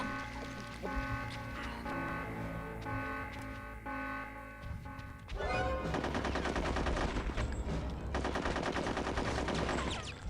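A burst of rapid automatic gunfire erupts midway and keeps hammering in dense volleys over a droning score and ambience in the War Squirrel level of Conker's Bad Fur Day, loud and continuous.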